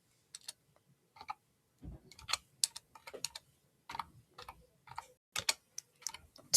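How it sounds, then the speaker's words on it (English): Keys clatter on a computer keyboard as a folder name is typed in OneDrive on Windows 11, coming in short uneven bursts of clicks with pauses between them, close and clear. "And then I hit enter on my keyboard."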